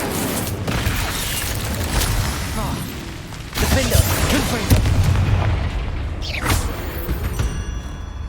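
Fire spell cast in a video game, a loud booming burst followed by rumbling, crackling roar, with a player's voice over the effects.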